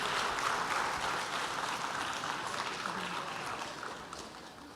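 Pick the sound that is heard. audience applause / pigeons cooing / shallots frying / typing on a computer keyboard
audience applause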